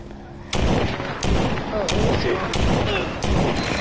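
Rapid gunfire from shooting zombies in a video game, a loud string of close, sharp shots cracking out repeatedly over about three seconds.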